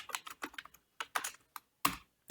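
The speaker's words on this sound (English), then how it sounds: "let me just type WebDriver." Rapid bursts of keystrokes on a computer keyboard while entering code into a programming editor, uneven in rhythm with short pauses between clusters of taps, close and clear with no talking.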